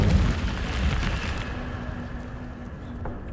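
An Incendio fire spell cast in the Hogwarts Legacy video game erupts in a loud, sudden fiery burst, then settles into a sustained roaring crackle that slowly fades over a few seconds.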